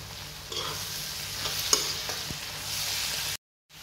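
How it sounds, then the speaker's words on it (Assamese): Close, steady sizzle of tomatoes frying in a pan with a few stirring scrapes, then it cuts off abruptly into silence. "বিলাহীখিনি অকণমান গলালৈকে আকৌ ভাজি থাকিম।"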